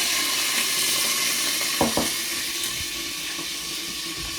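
Steady sizzling and frying hiss as water is added to frying onions, with a couple of brief clinks and stirring sounds near the middle; no talking.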